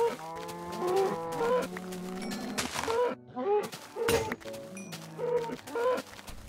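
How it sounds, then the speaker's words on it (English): Cows in the Minecraft video game moo repeatedly, a series of drawn-out, low lowing calls one after another, fairly loud and close with brief gaps between them. "Are those cows?"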